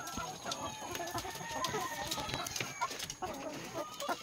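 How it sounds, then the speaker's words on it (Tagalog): Chickens cluck in soft, irregular bursts close by, one of them sick with prolapse, with scattered scratchy noises around them. "Ito na po pala yung manok ko na nagkasakit ng prolax"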